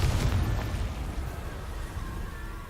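A Confringo explosion spell blasts off in Hogwarts Legacy, a loud low boom up front that rolls into a fading rumble and wash of debris over a couple of seconds.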